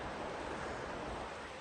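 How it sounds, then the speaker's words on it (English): Water of the Virgin River rushing through Zion Canyon in winter, a steady broadband wash close by with some wind noise, no voices. "So this is the Virgin River. This is what carved this entire canyon out."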